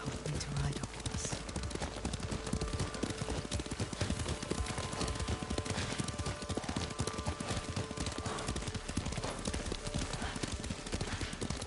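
Rhythmic horse hoofbeats clip-clop steadily throughout a ride in the video game Ghost of Tsushima, close and continuous over game ambience with brief speech.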